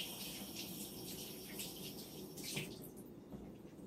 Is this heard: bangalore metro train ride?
no